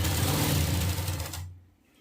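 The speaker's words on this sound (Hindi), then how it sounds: "अब इसके किनारे पे सिलाई लगा लेंगे।" An electric sewing machine stitches along the edge of a piece of cloth, a fast, steady mechanical whirring rattle that runs for about a second and a half, then winds down and stops.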